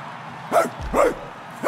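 A dog in the video game Marvel's Guardians of the Galaxy gives three loud, close barks, evenly spaced over under two seconds, with no talking.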